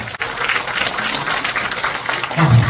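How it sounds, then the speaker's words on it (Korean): A crowd at a Korea–Denmark peace education forum in Pocheon gives a loud, sustained round of applause, a dense continuous wash of many hands clapping together without pause. "다시 한번 힘찬 박수 부탁드리겠습니다"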